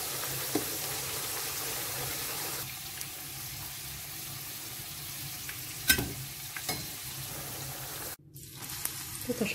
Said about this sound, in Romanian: Prăjesc puțin pe o parte și pe cealaltă, deci pe jumate doar prăjiți.